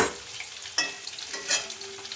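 Water poured into a pan of shukto vegetables frying with ginger and radhuni paste: a sudden hiss as the water hits the hot pan, then soft continuous sizzling and bubbling, fairly quiet with no talk.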